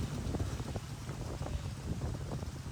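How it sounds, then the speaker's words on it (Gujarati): Strong wind buffeting the microphone with a low, continuous rumble and gusty roar, steady throughout with no voices. "પવન બહુ છે"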